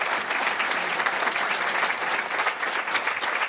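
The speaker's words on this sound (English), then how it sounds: "I'd like you to please offer a round of applause to Hannah" Dense, continuous clapping fills an awards banquet hall for a few seconds as the audience gives a round of applause for an absent honoree.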